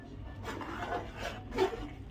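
Rice is stirred into biryani masala in a pot, producing soft, close scraping and rubbing strokes in a few quiet passes.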